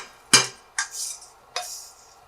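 A frying pan is set back down on a home kitchen stove while making stir-fried anchovies, a sharp metallic clank followed by two lighter clinks, close and alone with no talking.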